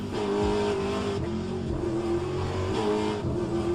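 A race car engine in the sim game rFactor 2 drones and revs near and loud, its pitch rising and falling through gear changes and corners, with faint tire noise and no talking.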